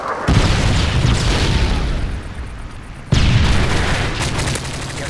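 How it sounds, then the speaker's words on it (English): A Predator missile strikes in Modern Warfare 3, producing a heavy, rumbling explosion followed by a second loud boom about three seconds later, each with a long roaring tail. "Friendly Predator missile inbound."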